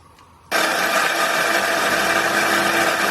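A blender kicks on abruptly after a quiet moment and runs loud and steady, whirring as it grinds cashew nuts and chilies into a paste.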